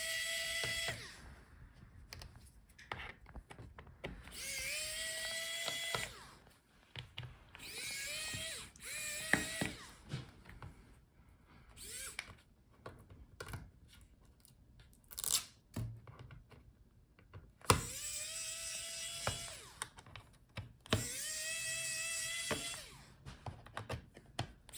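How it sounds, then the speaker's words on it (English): Small Torx T5 screws being backed out of the bottom panel of a Lenovo IdeaPad Flex 5 14 laptop, giving repeated short whirring, ratcheting bursts with brief pauses between them, close and fairly quiet. "Start with bottom screws. You will need T5 Torx screwdriver."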